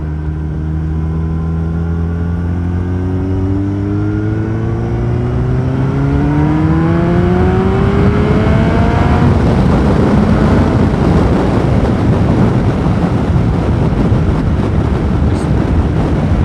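A 5PW Yamaha R1 motorcycle pulls hard through the gears from the rider's seat, its engine note climbing steadily in pitch before breaking into loud, rough wind roar at speed.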